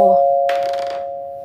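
A steady ringing door chime at a shop counter holds and gradually fades, with a brief rustling noise passing over it partway through.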